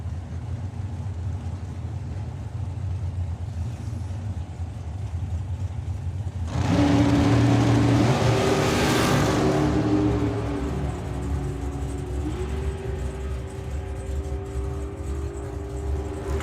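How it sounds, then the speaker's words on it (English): At a drag strip, a dragster and a Camaro race off together: a steady background rumble swells into a loud, rising engine roar that holds for a few seconds, then fades back toward distant engine noise. "Again, it's a Dragster against a Camaro."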